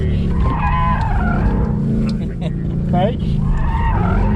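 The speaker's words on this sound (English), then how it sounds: "So now we're doing a just drift mode test without any nannies off." A Ford Mustang with its driver aids off skids through a drift mode test, its tires squealing in rising and falling sweeps over a loud engine roar while a person speaks briefly.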